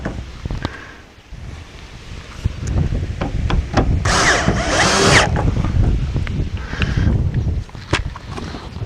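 A power drill drives screws into the hinge rail of a polyplastic opening rear window on a Ducato, Boxer, Relay or Promaster camper van, with close, loud bursts of motor whine and a sustained run in the middle.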